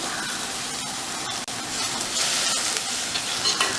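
Cabbage stir-frying in a pan with crushed garlic and green chilli, a steady close sizzle with scraping stirs throughout and no talk.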